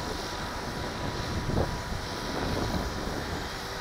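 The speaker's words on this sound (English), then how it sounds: "helicopter flying itself right there. The wind is really not liking it" A Walkera V450D01 radio-controlled helicopter hovers in gusty wind, its steady rotor and motor drone blending with heavy wind rumble on the microphone.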